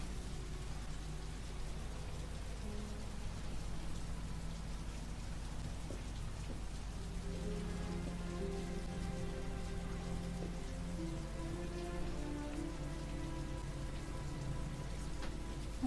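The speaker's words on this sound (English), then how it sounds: "This town's getting more rain than Britain." Steady rainfall in the video game Heavy Rain on PS4, a continuous soft hiss of rain on surfaces with low rumbling tones and a faint musical drone entering partway, no one speaking.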